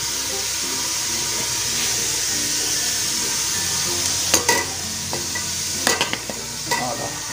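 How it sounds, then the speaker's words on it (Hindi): Mutton from qurbani meat sizzles in ghee over a low flame for a village-style shorba, a steady soft hiss broken by a few sharp clinks and scrapes of stirring near the end. "अभी इसको हल्की आंच पे जो है पहले फ्राई करते हैं"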